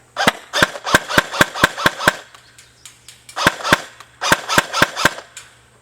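An airsoft gun fires sharp, snappy shots one after another at a steady semi-automatic pace in three bursts, with short pauses between, close and crisp.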